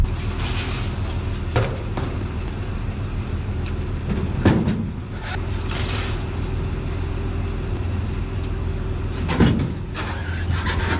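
A 1976 GMC truck engine idles in a steady low drone, with a few sharp clanks and knocks breaking in now and then; nobody speaks.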